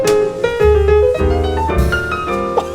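A piano line: a quick, rich run of chords and single notes over deep bass tones, close and full, with no voices.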